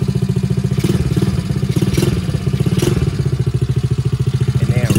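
A cheap gas four-wheeler ATV engine runs close by with a fast, steady pulsing putter and slight throttle rises, loud and alone throughout.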